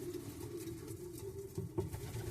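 Homing pigeons in a breeding loft give low, steady cooing, a continuous murmur with soft wing rustles and shuffling close by.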